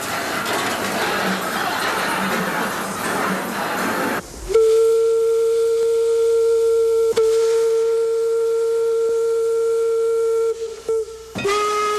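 A loud, steady whistle from a 111-year-old steam locomotive blows a long sustained tone after a rush of hissing steam, then cuts off abruptly.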